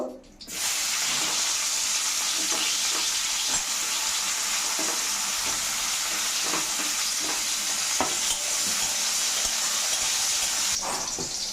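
Eggplant pieces frying in oil give a loud, steady sizzle that runs unbroken for over ten seconds, with soft stirring scrapes now and then and no voices.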